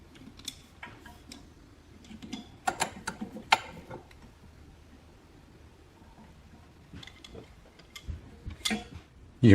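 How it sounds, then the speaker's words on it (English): Adjustment knob being reinstalled on a DEWALT D55168 air compressor regulator: bursts of close plastic clicks and ratcheting rattles, quiet gaps between handling noises, ending in a louder knock, no talking. "Now reinstall the adjustment knob"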